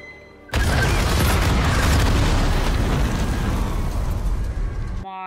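Bombs explode in the film The Hunger Games: Mockingjay Part 2: a sudden deafening blast lets loose a sustained roar of rumbling debris and fire that fills about four and a half seconds before cutting off.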